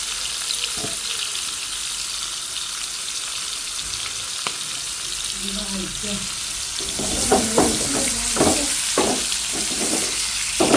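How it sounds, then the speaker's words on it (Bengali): A whole hilsa fish fries in a pan, giving a continuous sizzling hiss that grows busier toward the end with repeated clatters and scrapes, heard up close without speech. "একটা ইলিশ এখন পুরাটা ভেজে নিচ্ছি"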